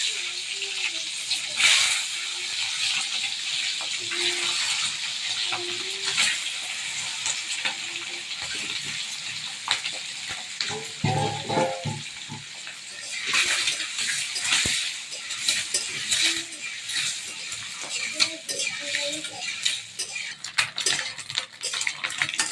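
Quail eggs frying and being stirred in a pan, with a continuous hiss and sizzle, occasional scrapes and clinks of a utensil, and a voice talking over the cooking at intervals.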